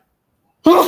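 A single short sneeze bursts out abruptly after near silence at a chess game, loud and close.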